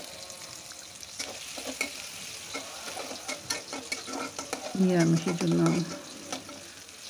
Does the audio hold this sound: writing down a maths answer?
no